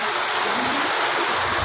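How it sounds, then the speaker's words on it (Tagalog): Steady, dense hiss of rain falling at a pigeon loft, loud and even for the whole short stretch with no break. "Ulan yan, umuulan."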